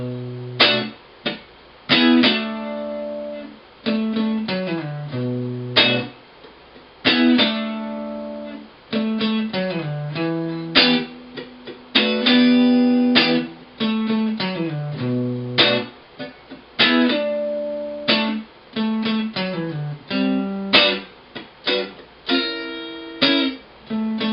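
A clean electric guitar plays a slow blues riff: repeating picked notes and strummed chords with short pauses between phrases, alone and fairly close.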